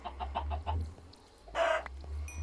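Chickens in a video game, first a quick run of soft, evenly spaced clucks, then a louder, brighter squawk, all close up over a steady low hum and with no talking.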